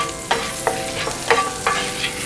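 100 grams of butter sizzling in a hot pan, a bright steady crackle with several quick scraping stirs close by, no voices.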